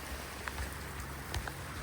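Fat raindrops falling on a beach at Nauset Light, Cape Cod, as a downpour starts, a steady soft patter with a few louder splats over a low rumble of wind or surf.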